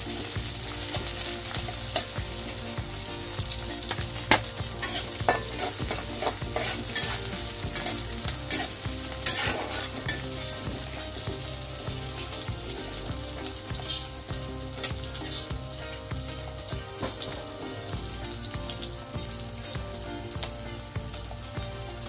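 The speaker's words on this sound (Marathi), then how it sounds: "10 ते 12 मिरच्या घेतल्या त्या टाकून घ्यायच्या आणि हे मिश्रण छान त्याची भाजून घ्यायचं" Green chillies and a spice mixture roasting in a pan for chutney, a continuous close sizzle with frequent stirring scrapes and clicks throughout, and no one speaking.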